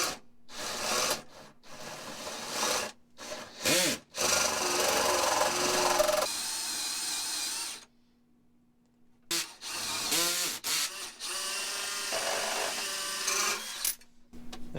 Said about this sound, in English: So I'm gonna drill a little bit from the top to prevent a lot of blowout from happening.